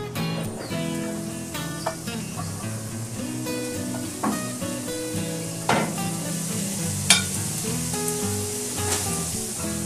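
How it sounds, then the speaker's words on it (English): Ham steak slices searing on a hot grill, a continuous crackling sizzle with occasional sharper pops and light metallic clinks throughout. "I'm going to put each of these slices on the grill for about 2 minutes"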